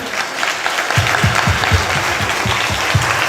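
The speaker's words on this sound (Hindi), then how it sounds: "एक अच्छी ताली, दोनों हाथ उठाकर।" A church congregation claps with both hands raised right after a prayer. The clapping starts after a brief quiet moment and goes on as a rhythmic, even beat of claps.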